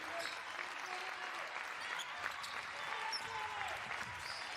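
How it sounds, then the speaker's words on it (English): A crowd applauds at a women's basketball game, Finland against Slovenia in a EuroBasket qualifier, producing a steady, distant wash of clapping under a commentator's voice. "Crowd ringing through the applause."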